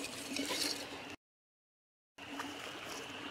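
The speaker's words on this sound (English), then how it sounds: "I'm sure you can hear the creek babbling on in the background" Creek babbling along a bank, a faint steady wash of flowing water heard at a distance outdoors, broken by a short gap of silence.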